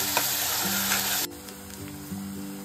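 Finely chopped onion sautés in a hot pan with a dense, bright sizzle that abruptly drops to a quieter crackle partway through, with occasional faint clinks of stirring and no talking.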